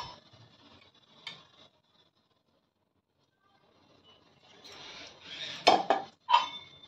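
A spoonful of ghee goes into a pan on a gas stove while making fresh coconut laddu, with soft scraping followed by a few sharp metal clinks of the spoon against the pan near the end, after a quiet stretch.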